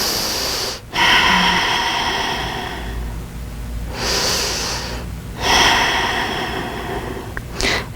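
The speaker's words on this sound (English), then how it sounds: "3 breaths here." Slow, deep breaths during a seated chair yoga class, each long airy inhale or exhale separated by brief quiet pauses, close and fairly soft, with no talking.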